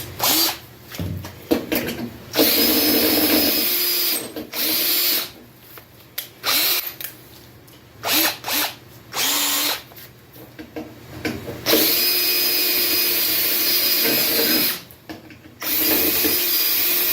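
Power drill boring out mounting holes in a 1991 Harley-Davidson Sportster front fender, in repeated bursts of high whining bit grinding separated by short pauses, close and loud, with no talk.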